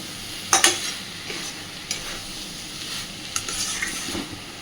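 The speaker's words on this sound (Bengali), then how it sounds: "খুব ভালোভাবে সব কিছুকে কষিয়ে নিয়েছি।" An egg and soybean curry is stirred and sautéed in a pan: a few scraping spoon strokes and clinks over a quiet, steady sizzle, heard close and fairly soft.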